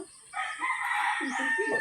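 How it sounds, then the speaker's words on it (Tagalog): A chicken crows once, close and clear, with a drawn-out call following a short lead-in cluck, set against quiet farmyard surroundings. "Manok."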